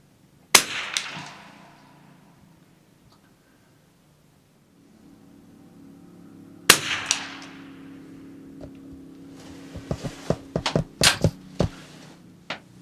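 Sharp shots from a .22 rifle sighted for 25 yards, fired at targets 75 yards out, crack near and loud: one at the start, another after a long quiet stretch, then a quick cluster of pops over low outdoor rumble.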